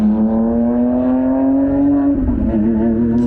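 A Lamborghini SVJ's V12 revs hard with a rising, tonal howl, then drops sharply into a downshift with a crackling burble, loud and close, all in one short burst with no talk.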